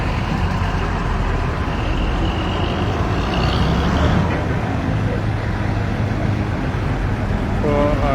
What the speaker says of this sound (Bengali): আন্ডারপাস ব্যবহার করে গাড়ি ধীর গতিতে টেনে যাচ্ছে।